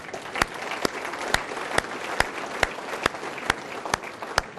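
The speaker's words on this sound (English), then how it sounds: "give yourselves a round of applause" A city audience in San Bernardino County applauds steadily, with a dense wash of clapping topped by sharp, regularly spaced louder claps, close and continuous throughout.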